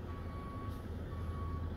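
A day truck backs in to park at a truck stop in Midland, Georgia, its reversing alarm giving a thin steady high beep, faint and distant over a low idling rumble.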